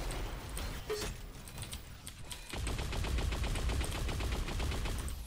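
Rapid gunfire in Unreal Tournament 4, a team deathmatch shooter, crackles in sharp, evenly spaced bursts that grow denser and louder in the second half, with occasional heavier single shots earlier.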